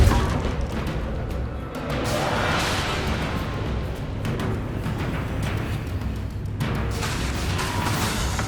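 A Depulso spell strikes in Hogwarts Legacy, a heavy smashing, booming impact with a whooshing burst that rolls on as a loud, dense wash of crashing game noise.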